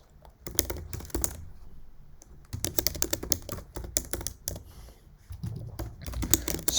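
Fast, steady typing on a computer keyboard, with dense bursts of close, crisp keystrokes broken by brief pauses and no voices.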